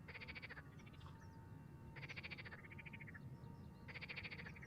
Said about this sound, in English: And the frog has also awakened himself. I think you probably can hear very well.